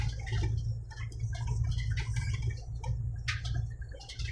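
Floodwater after heavy overnight rain in the Saudi desert, a steady low rushing flow with scattered light drips and splashes over it, close and continuous with no talking.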